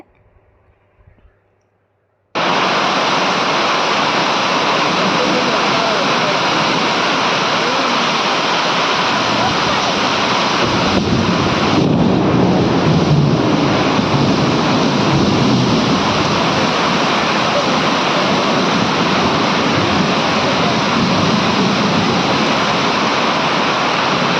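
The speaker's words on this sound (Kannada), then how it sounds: "ನೋಡಿದ್ರೆ ಇಷ್ಟೊಂದು ಮಳೆ." Heavy early-morning rain near a riverbank in Nanjangud pours down as a dense, steady roar. It starts abruptly after a brief quiet moment and keeps its loud, unbroken hiss to the end.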